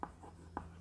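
Chalk or a marker scratches on a classroom board as a teacher writes a definition. The strokes are brief and faint, with two soft scrapes over low room hum.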